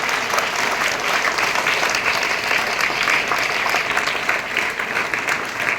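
An audience bursts into steady, dense applause to welcome police officers at a school gathering, the clapping holding at an even moderate level for several seconds with no voices on top.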